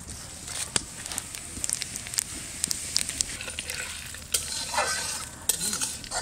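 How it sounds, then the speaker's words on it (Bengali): Whole cumin, bay leaves and dried red chillies sizzling in hot mustard oil as the tempering for a mutton curry, a steady close frying hiss broken by sharp clinks and scrapes of a spoon stirring in the pan. "সর্ষের তেলটা দিয়ে দেবো। ফোড়নে গোটা জিরে, তেজপাতা, শুকনো লঙ্কা দিয়ে দেবো।"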